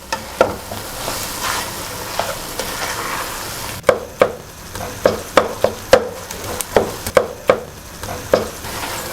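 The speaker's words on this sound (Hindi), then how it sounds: "खोया डालने के बाद फिर इसको अच्छी तरह भूनना है" Khoya and poppy seeds roasting in a pan for khashkhash halwa, with a steady soft sizzle beneath repeated sharp scrapes of a spoon stirring against the pan, the strokes quickening in the second half.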